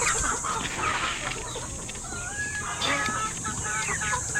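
Chickens cluck and chatter in a noisy, busy farmyard at feeding time, several birds close by, with constant background clamor.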